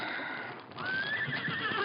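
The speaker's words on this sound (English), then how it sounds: "he heard the whinny of a horse close by" A horse whinnies close by in a high, wavering neigh that rises and falls, with faint hoof-like knocks underneath in a quiet outdoor night scene.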